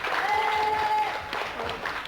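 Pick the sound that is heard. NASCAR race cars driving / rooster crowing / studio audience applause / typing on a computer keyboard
studio audience applause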